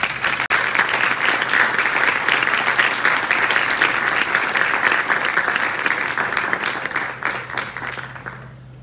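A large audience applauds steadily and loudly at a nursing capping ceremony, the dense clapping holding for several seconds before tapering slightly at the end.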